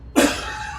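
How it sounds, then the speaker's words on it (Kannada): A single sharp cough, close and fairly loud, with a short tail of room noise after it and no speech. "ಕೆಮ್ಮಿ"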